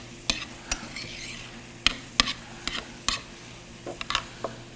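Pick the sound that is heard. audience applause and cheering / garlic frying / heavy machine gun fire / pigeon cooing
garlic frying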